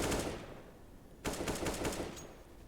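Rapid bursts of automatic gunfire from a competitive video game match, loud and crackling, with a short lull before another sustained volley.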